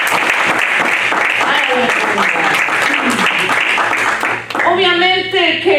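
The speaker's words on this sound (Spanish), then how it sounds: "Que le van a aplaudir." A church audience claps in a dense, continuous wash of applause mixed with voices, before a voice rises with music-like tones near the end.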